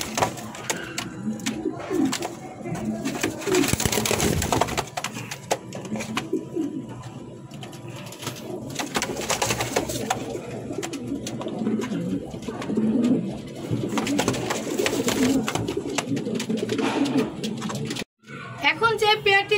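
Black Lahori pigeons coo at close range in soft, repeated low calls while someone speaks over them almost the whole time.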